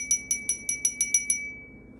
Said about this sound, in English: I also forgot to ring the bell before your reading